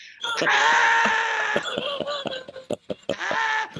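A voice imitates a screaming bungee jumper, with a long sustained wailing shriek that breaks into short choppy bursts as each bounce cuts the scream off, loud and close with no other talk.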